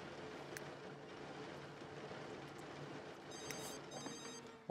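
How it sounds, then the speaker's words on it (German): Telephone ringing inside The Sims 3 life-simulation game, a faint electronic ring in short bursts near the end, sitting under a steady bed of game ambience and background music with no talking. "Und bei ihm schellt schon wieder das Telefon"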